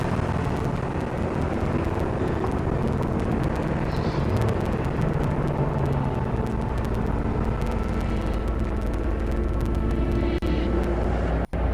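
A car in Cyberpunk 2077 hums along with a loud, continuous engine drone and road rumble, a sharp thump near the end.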